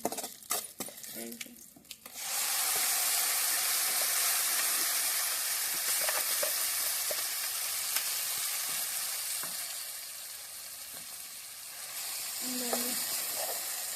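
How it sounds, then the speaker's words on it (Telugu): A tomato pickle with tempering fries in a pan on a wood-fired stove: a few clattering knocks open, then a loud, dense sizzle that stays steady and close to the end. "తిరగమాత బాగా వేపుకోవాలి ఇట్లా పచ్చడికి తిరమాత వేసి పచ్చడి దాంట్లోనే టమోటా పచ్చడి ఇప్పుడు బాగా వేగిపోయింది"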